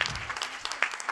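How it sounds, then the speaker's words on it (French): Brief burst of audience applause at a workplace quality-of-life panel talk, close and lively with individual claps standing out, faint voices mixed underneath. "Donc là, on peut l'applaudir."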